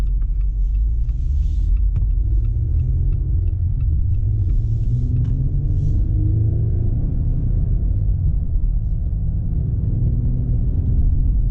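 A 2021 Jeep Gladiator Mojave on a test drive gives a steady, loud low rumble of engine and road noise from inside the cabin, with a few faint clicks early on.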